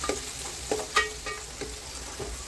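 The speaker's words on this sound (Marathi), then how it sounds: "हिरवी मिरची कच्ची मी वाटून घेतली होती, ते तेलात फ्राय करायला टाकते" Ground raw green chilies fry in hot oil, giving a soft continuous sizzle broken by a few quiet stirring clicks and scrapes, close by with no talking.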